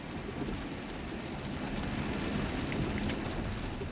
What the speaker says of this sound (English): It's been raining in East Liverpool since early morning.